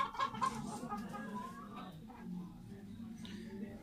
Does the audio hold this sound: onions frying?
no